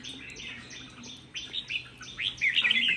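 Red-whiskered bulbul chirping in a run of short, bright, repeated calls, growing louder and more excited toward the end, close by with no talk.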